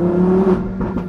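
A 2020 Lamborghini Huracan Evo Spyder's engine holds a loud, steady high-pitched rev before briefly wavering, close and alone.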